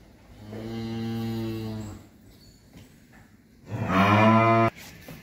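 A Friesian heifer moos twice, a long drawn-out low call followed by a louder, more strained one after a short pause, close by.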